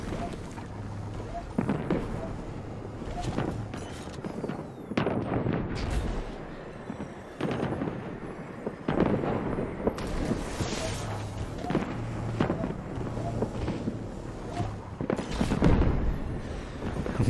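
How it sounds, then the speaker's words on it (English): Repeated booming explosions in Destiny 2, a run of heavy blasts recurring every second or two against constant game noise, with a voice talking now and then. "I'm glad those explosions don't hurt us either."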